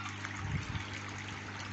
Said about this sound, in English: I vaulted it now, so it is a trickle shower